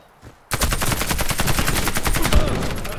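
An AK-103 assault rifle in the online shooter Warface fires one continuous loud automatic burst of rapid, evenly spaced shots, beginning abruptly after a brief quiet moment.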